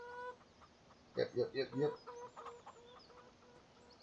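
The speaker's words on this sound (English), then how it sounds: "Here's our chickens." Farm chickens cluck in a quick burst of four or five loud, close calls, then softer scattered clucks follow; someone briefly says a word beforehand.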